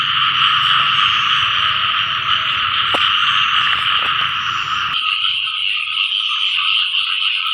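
A dense chorus of frogs croaks without pause across a flooded rice field on a rainy night, loud and close, a steady buzzing drone with a few sharp clicks on top.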